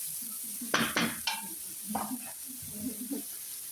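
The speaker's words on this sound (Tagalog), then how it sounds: "Isunod na to ang singkamas og carrots. Imikos-mikos." Sliced jicama and carrots stir-fried in an oiled pan, with a few sharp utensil clinks and scrapes against the pan over a soft sizzle, faint background voices.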